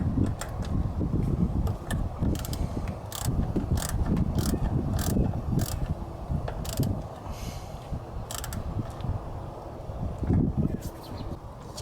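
A ratchet tightens a nut on the EGR valve of a 1997-2004 Ford F-150 4.6L. Quick repeated clicks sound up close over a steady mechanical background.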